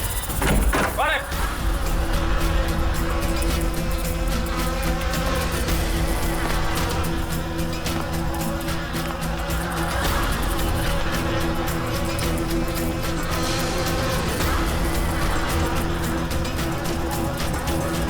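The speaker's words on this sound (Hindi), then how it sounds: "मधुमक्खी?" Bee buzzing, a steady droning hum running through the scene beneath talk and ambient noise, after a sharp thump near the start.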